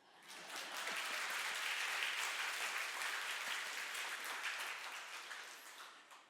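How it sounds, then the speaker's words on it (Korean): A church congregation at a Sunday sermon breaks into applause that swells quickly, holds as a dense, steady clapping, then tapers off. "박수 치려면 치고."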